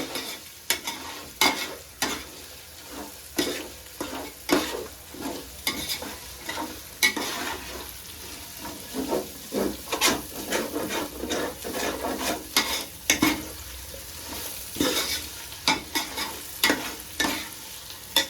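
A spoon scrapes and stirs butter beans and green peas in a pan for vegetable biryani, with repeated uneven scraping strokes over a soft sizzle, close and steady with no talking.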